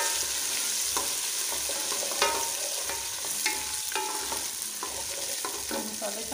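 Ginger-garlic paste fries in hot oil for Punjabi kadhi pakora, a steady close sizzle with repeated scraping stirs of a spoon throughout.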